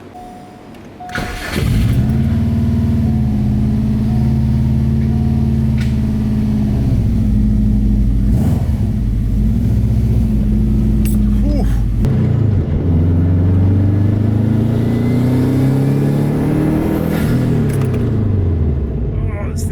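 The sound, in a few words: car driving and accelerating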